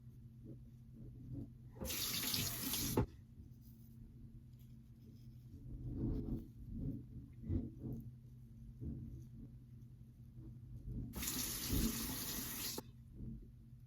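Tap water runs in two bursts, first briefly then again near the end, rinsing a Tatara Masamune Nodachi razor blade after a shave with Cold River Soap Works Brazen Moment, with quiet handling noises and a low hum between.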